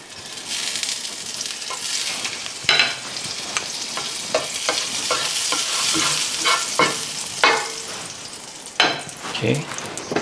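Buttermilk pancakes frying in butter in a pan, a steady close sizzle broken by frequent stirring and scraping clatters of a utensil.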